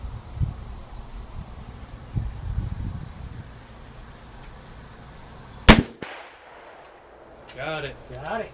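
A single loud, sharp gunshot from a .44 Magnum revolver fired at a steel target outdoors, standing out against wind and rustling background noise, followed shortly by a person speaking.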